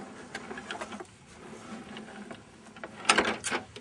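An AccuQuilt GO fabric cutter is hand-cranked to wind a die and fabric through its rollers, giving soft intermittent mechanical clicks and rumbles that end in a louder burst of rattling near the close.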